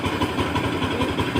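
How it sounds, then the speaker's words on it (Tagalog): A Bajaj NS200 motorcycle fitted with a Perfect Power CDI runs with a steady, throbbing engine note at a close, loud idle, pulsing evenly throughout. "Medyo may nafe-feel ko may kalakasan ng roar ng motor kumpara natin sa stock kanina."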